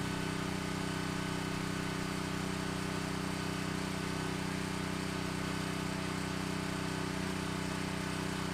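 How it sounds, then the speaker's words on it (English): A Power Stroke 3200 PSI pressure washer's engine runs at a steady, loud mechanical drone with a constant low hum and no variation, no voices. "That's the new power of the Power Stroke pressure washer."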